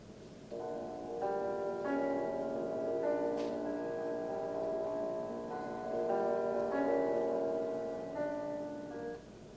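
Playback of a gamelan mix assembled in audio editing software, with sustained metallic tones and layered resonant strikes that swell and fade in waves over steady background noise, moderately loud and without speech.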